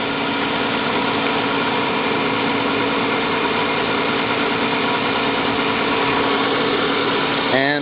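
A steady engine runs in a free-energy generator setup, holding a constant mid-range idle hum with a dense harmonic drone at a close, loud, unchanging level, and a slight shift only at the very end.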